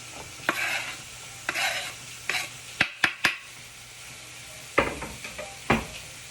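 Onion, yellow and green bell pepper, lots of garlic and green onions sauté together in a pan for stuffed bell peppers, giving a steady soft sizzle broken by several sharp utensil scrapes and knocks against the pan.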